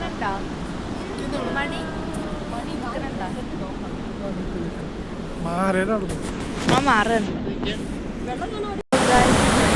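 A waterfall in Switzerland rushes in a steady broadband roar that fills the whole clip, with voices talking briefly over it near the end.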